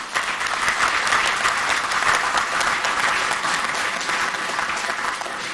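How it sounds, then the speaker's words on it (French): Sustained, dense applause from a large audience at a UN desertification convention COP15 ceremony, even and continuous throughout with no break. "Le moment mérite des applaudissements bien nourris"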